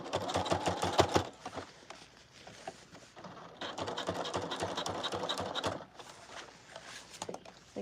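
A sewing machine top-stitches serge fabric around a circular shape in a boutique, running in bursts of rapid mechanical needle clatter with short pauses between runs, fairly quiet and close.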